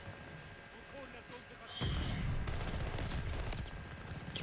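MP40 submachine gun fire in the video game Call of Duty Vanguard, with rapid automatic bursts starting abruptly partway through and continuing loud and dense, and a player's voice talking beneath it.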